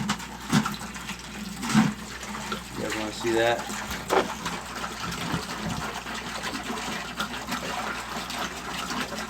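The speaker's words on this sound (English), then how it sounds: "I'm going to have to pour this jug into the bucket." Water poured from a jug into a bucket while setting up aquarium tanks, a running liquid splash heard under a person talking nearby.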